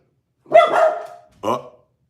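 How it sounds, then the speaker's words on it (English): A pet dog gives two sharp barks close to the microphone, a longer one followed by a shorter one, with silence around them. "It's my dog."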